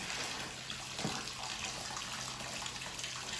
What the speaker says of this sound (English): I will just pour a bit in the old yeast jar